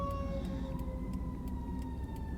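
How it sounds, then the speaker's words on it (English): Fire truck Engine 3's siren in Norwich, Connecticut sounds at a moderate distance over the low hum of a moving car, holding steady tones that slowly slide downward. "There's a fire truck."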